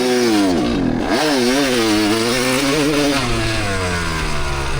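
Kawasaki KX250 two-stroke dirt bike engine, loud and close, dropping into a heavy bog in second gear with falling, sagging pitch, then straining and climbing back up in a wavering, uneven drone.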